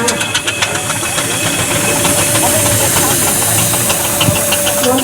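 A vintage steam-powered articulated lorry approaching at a Cornwall vintage show, giving a steady broadband hiss and chuff with rhythmic knocking pulses, loud and continuous throughout.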